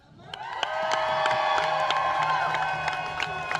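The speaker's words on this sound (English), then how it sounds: "let's clap" A protest march crowd claps and cheers loudly, with whoops and shouts rising over steady dense clapping, close and continuous throughout.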